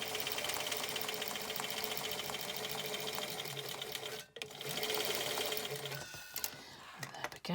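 A sewing machine stitches a straight seam on a shaped fabric face mask, a steady close mechanical whirring chatter that pauses briefly midway, then resumes with some handling clatter.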